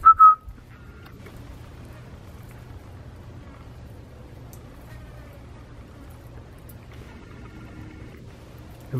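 A person gives a short, sharp whistle to call a raccoon at the start, then only a faint, low outdoor hum continues.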